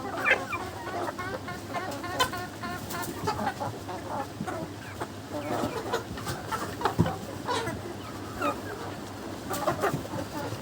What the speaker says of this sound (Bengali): আর সব মুরগিগুলো এখন পানি খাওয়ার জন্য একেবারে অস্থির হয়ে গেছে